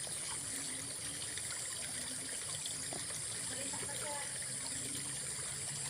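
Floodwater is scooped and fetched by hand in a flooded home area, giving a steady trickling and dribbling of water that runs continuously at moderate level.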